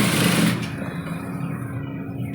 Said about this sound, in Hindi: तो सबसे पहले हम यहाँ पर ये सिलाई लगा लेते हैं।